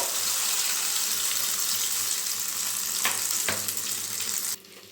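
Soybean omelette mixture frying in hot mustard oil in a wok, a steady loud sizzle and crackle throughout, with a couple of brief scraping knocks near the end before the sizzle abruptly drops away.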